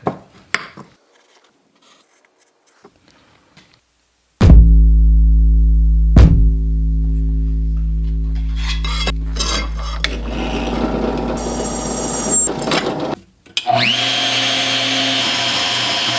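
Loud, steady power-tool whine starts abruptly, briefly dips, then runs on with a grinding, rasping edge while cutting a metal block-off plate for a Honda VFR motorcycle, cutting out sharply near the end.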